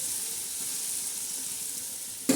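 Spiced chicken pulao masala with turmeric fries in a pan, a close, even sizzling hiss that runs steadily before a brief thump at the end.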